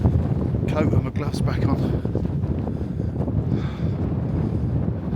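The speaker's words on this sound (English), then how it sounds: "I haven't found anywhere really out of the wind yet." Strong wind buffets the microphone along an exposed stretch of the Jurassic Coast path, a steady low roar throughout, with a person talking over it.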